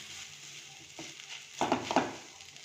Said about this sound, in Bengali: আলুটাকে একটু ভালো করে সবজির সাথে মিশিয়ে দেবো।